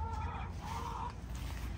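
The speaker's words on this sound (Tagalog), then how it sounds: "Guinea birds ang tawag." Guinea fowl call faintly in a short burst of harsh, squawking clucks over a low background rumble.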